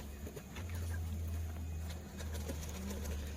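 A Kaldam pigeon cooing close by in a steady low rumble, with other birds clucking and chirping faintly in the background.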